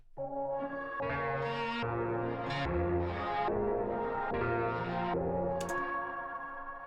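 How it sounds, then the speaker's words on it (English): Warm, slow-moving synth pad chords with a stretched, slowed-down feel, sustained and steady with shifting harmonies, no voices. "You throw halftime on your bus and you get something that sounds like this"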